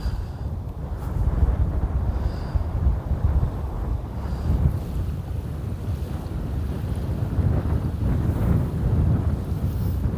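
Strong coastal wind on the Sardinian shore buffets a phone microphone, a continuous loud, rumbling roar that surges and eases in gusts throughout, with no voices heard.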